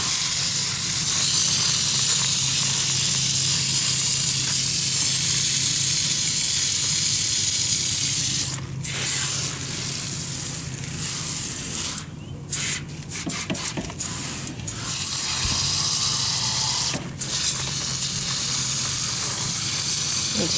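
Water spray rinsing HVAC equipment, a steady broad hiss that runs loud and continuous, broken by a few brief dips and spatters in the later part, with no talking.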